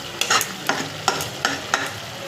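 Masala with added water stir-fried in a pan for egg curry, loud rhythmic scrapes of the spatula about every third of a second over a constant sizzle, close and without speech.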